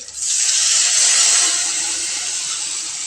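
A ground spice paste with ginger hits hot oil in a wok and bursts into a loud, bright hissing sizzle that stays strong and steady, easing only slightly as it settles.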